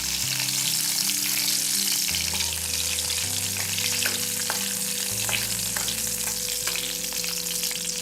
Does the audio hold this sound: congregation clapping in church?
no